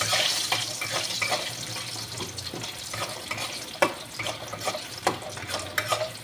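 Bori, small sun-dried lentil dumplings, fry in hot oil in a pan with a constant hissing sizzle, punctuated by irregular clinks and scrapes as they are moved around.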